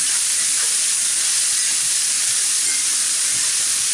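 Mushrooms browning in a hot pan with pork chop drippings, a loud continuous hiss and sizzle close up, with faint scraping or stirring underneath and no voices.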